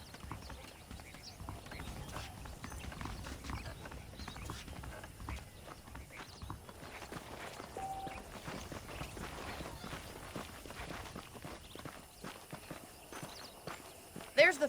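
Steady clip-clop of horse hooves at a walking pace in the video game Red Dead Redemption, with faint mechanical creaks and background activity throughout.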